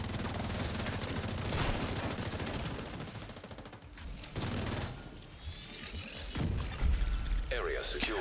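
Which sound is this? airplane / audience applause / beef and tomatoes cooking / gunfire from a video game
gunfire from a video game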